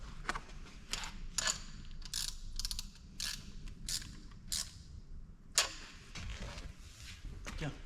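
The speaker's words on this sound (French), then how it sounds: "Encore la visseuse là, tu vois." Power screwdriver tightening bolts on a Volkswagen Golf 2 GTI, a series of short sharp ratcheting whirs in irregular bursts, close by, with quiet garage noise between them.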